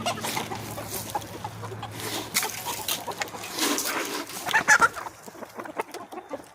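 Chickens on a farm cluck softly and irregularly, with several birds close by making low, busy clucks and brief squawks over a quiet background.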